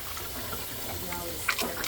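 Water from an unclogged sink drain flowing in a faint, steady watery rush, close by, with a brief splash near the end; a voice speaks over part of it.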